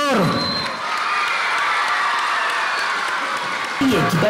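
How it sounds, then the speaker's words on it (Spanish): Crowd at a school inauguration in Iguala applauding and cheering for the governor, a dense burst of clapping and shouts that holds steady for a few seconds before a voice returns near the end. "Un aplauso para el gobernador"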